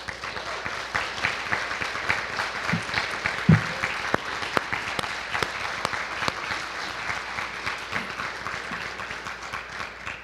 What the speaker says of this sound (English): would you please stand so that we can give you a round of applause